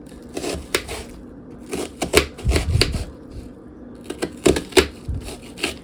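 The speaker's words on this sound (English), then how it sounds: "just going to chop it so that it" A knife chopping a peeled onion quarter on a cutting board for potato soup, giving a series of quick, close knocks in short irregular bursts with brief pauses between them.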